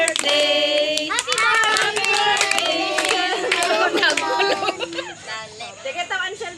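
Group clapping follows a sung birthday greeting at a family celebration, dense hand claps and voices filling the room, with talk and shouts mixed in throughout.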